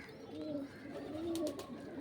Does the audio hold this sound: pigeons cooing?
yes